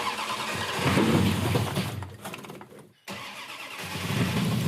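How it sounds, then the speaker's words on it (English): A Hatchet Coronet car engine cranks and fires up, a loud rough mechanical roar that briefly cuts out, then catches and keeps running close by, with no voices. "Hit the ignition, press the button, and let her rip."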